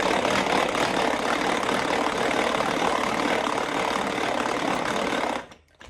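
An electric hand mixer whips egg whites for a light chocolate mousse, a steady loud whirring buzz that holds nearly unbroken for over five seconds before cutting off abruptly at the end.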